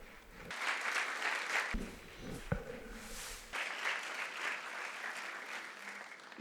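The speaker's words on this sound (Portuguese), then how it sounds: "Aplaudamos então Nossa Senhora." An audience at a Portuguese-language religious gathering applauds in honour of Our Lady. The clapping is steady and fairly loud, briefly interrupted by a short break with a sharp knock, then resumes.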